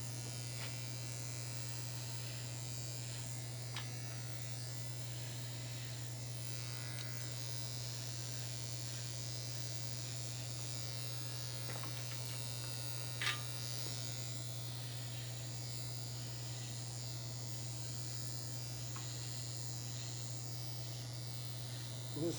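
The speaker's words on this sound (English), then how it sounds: "Once again, this is getting the hair at a template of your Afro." Electric hair clippers trim an afro, a steady low motor hum running continuously and fairly quietly throughout, with a few faint clicks and no speech.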